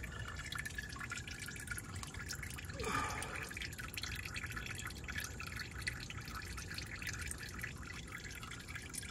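Motor oil drains from a car's oil drain opening into a catch pan, a continuous soft dripping trickle heard close and steady, with no talking.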